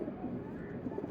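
A Madras tournament pigeon coos softly and steadily from close by, a low, murmuring burble that runs through the short stretch.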